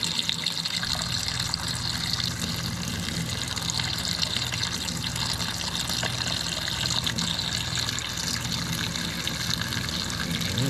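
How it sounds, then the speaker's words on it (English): Hot water running steadily from a tap after a water heater upgrade, a constant close hissing splash that holds evenly throughout with no voices. "Turn on the hot water, see what we get."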